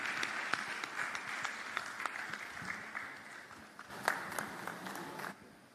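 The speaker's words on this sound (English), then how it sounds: "And a round of applause, please." Audience applause for a panel at an IMF regional economic outlook event on Sub-Saharan Africa, a steady wash of many hands clapping with sharper individual claps standing out, sustained throughout and easing slightly near the end.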